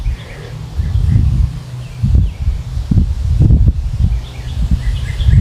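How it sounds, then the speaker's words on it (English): Loud, gusty wind buffets the microphone in heavy low rumbles, rising and falling in bursts outdoors, with faint bird chirps behind. "Do you hear how windy it is?"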